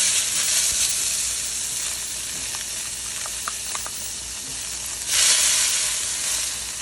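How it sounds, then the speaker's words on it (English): Butter melting in a pan for a honey glaze, giving a steady sizzling hiss with a few small pops, swelling briefly louder near the end, close and alone without talk. "We're gonna put the butter in the pan."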